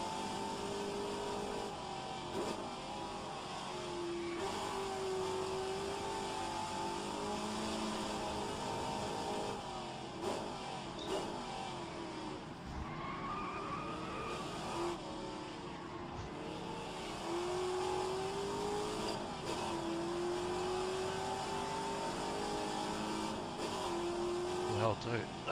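Race car lapping Suzuka in a racing video game, the engine tone rising and falling steadily through gear changes and corners for the whole stretch, with occasional tyre noise, under ongoing talk.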